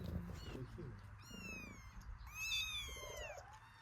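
A cat meows twice, high and drawn out, close by, while low voices murmur underneath.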